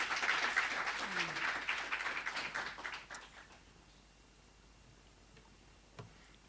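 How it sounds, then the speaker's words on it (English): Audience applause swells loudly for about three seconds, a dense patter of many hands, then fades to quiet room tone with a faint tap near the end. "Let's give him a round of applause, ladies and gentlemen."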